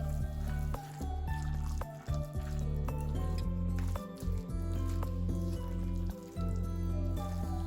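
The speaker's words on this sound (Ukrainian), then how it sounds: "ретельно перемішуємо для того, щоб наші сухі продукти розмішалися та об'єдналися з фаршем." Minced meat being mixed by hand with dry ingredients for a meat loaf, wet squishing and squelching in an ongoing rhythm, close and loud, with no talk.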